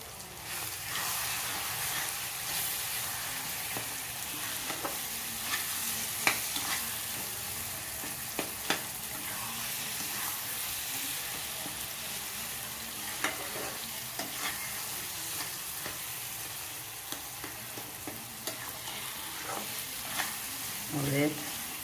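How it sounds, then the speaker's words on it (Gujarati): Pav bhaji masala fries in oil in a Mumbai street-food style pan, a steady close sizzle going on for a while, with a spatula scraping and tapping at irregular moments throughout. "આવી રીતે આપણે બધા મસાલા મિક્સ થઈ જાય ત્યાં સુધી થોડી વાર થવા દઈશું."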